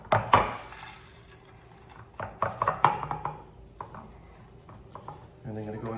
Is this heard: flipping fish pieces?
yes